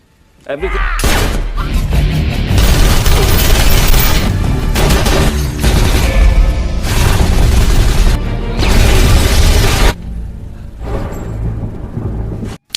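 Film action scene with loud, dense explosions and booming blasts, rolling almost continuously for about nine seconds with brief gaps, then fading to a quieter tail.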